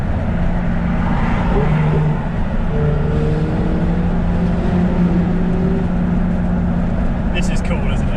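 A Ferrari Pista supercar engine at a car meet, a steady loud low drone with rising harmonic tones as it pulls past, continuous and close, with other engine noise mixed in.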